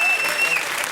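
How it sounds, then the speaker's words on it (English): An audience applauds dance performers with a dense, continuous wash of clapping, heard for less than a second. "Can we give them another round of applause, please?"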